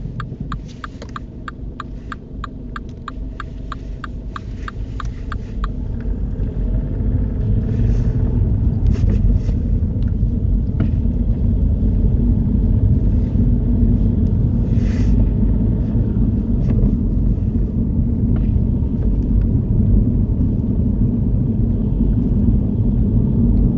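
Car driving along a road during a UK mock driving test, shifting down into second gear for a sharp bend; a steady low engine and road rumble that swells after a few seconds, with faint clicking early on and no talk.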